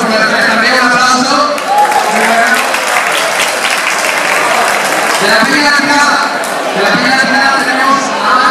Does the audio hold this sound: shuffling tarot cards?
no